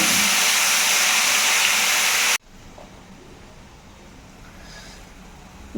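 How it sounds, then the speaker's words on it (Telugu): Onion paste sizzling in hot oil left over from frying fish, a loud steady hiss that drops abruptly partway through to a faint low crackle. "ఇదే ఆయిల్లో కొద్దిగా ఉల్లిపాయ పేస్ట్ వేసుకుని వేపేసుకోవాలి"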